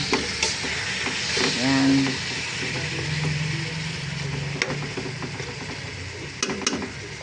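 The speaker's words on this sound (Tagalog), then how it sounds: "Haluin lang po natin yan. Para kumapit ang patis sa ating manok." Chicken with fish sauce is stirred in a pot while cooking tinola, a steady sizzling hiss with occasional scraping clinks of the utensil, and a voice speaks briefly over it.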